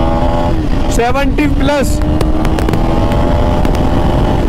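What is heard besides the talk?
KTM Duke 250 motorcycle accelerating in second gear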